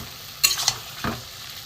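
Grated egg being sautéed with spice masala in oil, heard as a brief pair of spoon scrapes and a soft knock in the pan, close and fairly quiet with no talking.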